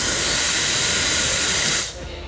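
An iQ Perfetto blow dryer runs with a loud, steady airy hiss and a thin whistling wheeze from its turbine, close up, then drops off sharply near the end.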